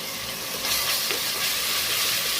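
Ginger garlic paste sizzles hard in frying onions in hot oil, giving a steady, close, loud hiss and crackle that holds without a break.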